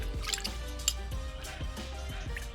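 Hands washed under running water at a kitchen sink, a close, soft patter of splashing and dripping with small irregular splats throughout.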